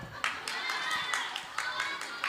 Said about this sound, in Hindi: इसके लिए सब अपने अपने लिए तालियां बजा लो